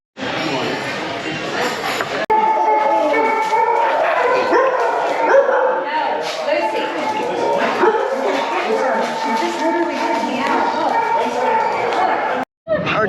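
Dogs bark, yip and whimper continuously up close, an excited, overlapping chorus that stays loud for most of the stretch with a person talking over them.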